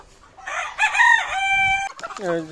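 A rooster crows loudly and close by, followed by Fayoumi chickens clucking and squawking nearby on a poultry farm.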